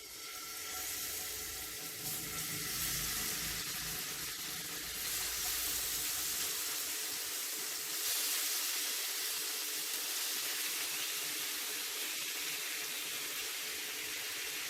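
Marinated chicken hitting hot olive oil in a pan, a steady broadband sizzle and crackle that runs the whole time at moderate, close level, with no talking.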